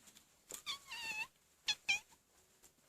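A house cat gives two quiet meows, the first a longer drawn-out cry and the second a shorter one, with brief soft rustles between them.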